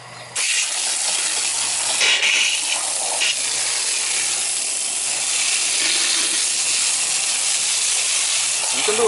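A garden hose sprays water over the coil of a Ruud air conditioner during annual HVAC servicing, a loud, steady, close hiss that runs almost unbroken for several seconds.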